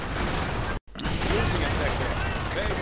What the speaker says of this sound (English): Rangers here getting suppressed, getting gunned down